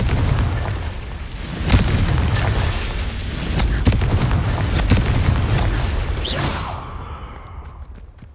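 Confringo spell blasts in Hogwarts Legacy: repeated loud booming explosions with whooshing bursts over a dense rumble, fading into quieter ringing debris at the end.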